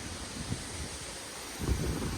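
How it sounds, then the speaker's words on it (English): Wind gusts push through trees around a house during a Labor Day windstorm, a steady rushing roar that swells into a heavier low buffeting gust near the end, with no talking. "wind's picking up again. Oh, that was a big wind gust."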